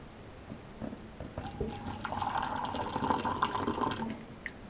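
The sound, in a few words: pouring boiling water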